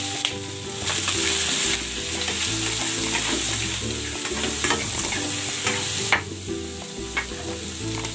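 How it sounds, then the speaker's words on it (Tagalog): Shrimp seasoned with salt and pepper sizzles loudly in a hot pan, with a constant bright frying hiss, occasional stirring scrapes and a brief dip in intensity partway through. "Igigisa ko muna dito itong hipon."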